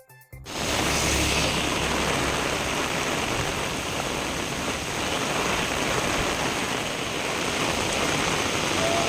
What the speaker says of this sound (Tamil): பெய்த மழை காரணமாக பொதுமக்களும் இருசக்கர வாகன ஓட்டிகளும் கடும் அவதியடைந்தனர்